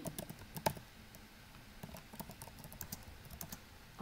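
Close, quiet typing on a computer keyboard during a shell programming lecture, with a steady patter of individual key clicks and brief pauses, and no voice.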